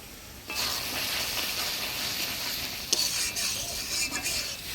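Water is poured into a pan of frying spices with a sudden burst of loud hissing sizzle. Bubbling and stirring continue close up, with an occasional clink of a spoon against the pan.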